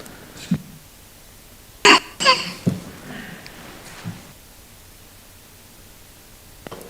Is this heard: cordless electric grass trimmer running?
no